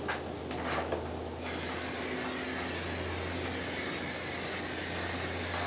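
Stoner Trim Shine aerosol sprayed in a car's engine bay gives a steady, broad hiss that carries on for several seconds at an even level, over a low hum.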